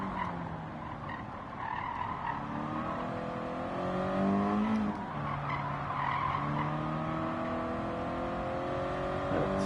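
A race car skids through corners on Trial Mountain in a racing game, sustained squealing tire tones bending up and down over a steady engine drone, loud and continuous throughout, with no voices.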